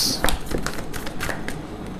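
Tarot cards being drawn and shuffled from a deck, a quick series of crisp papery taps and flicks close by with a faint voice under them.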